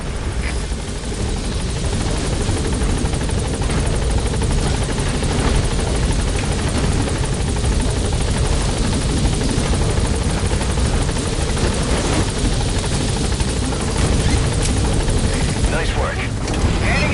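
Helicopter in Metal Gear Solid V touching down, a loud, close, continuous rotor thrum and engine roar that stays steady and dense from start to finish.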